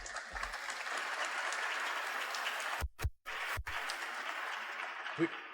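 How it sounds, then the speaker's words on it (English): An audience at the 2024 Kentucky Teacher of the Year Awards ceremony applauds the judges with steady, fairly soft clapping that cuts out briefly before resuming. "Give yourselves a round of applause."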